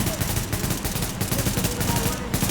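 Dense, continuous bursts of rapid gunfire crackle throughout, close and loud, over a low rumbling background, in the video game Tom Clancy's The Division.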